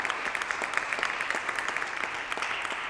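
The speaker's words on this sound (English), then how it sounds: "Can we give another round of applause?" Audience applause following a jazz performance, a steady dense patter of many hands clapping at moderate loudness throughout, with no voices over it.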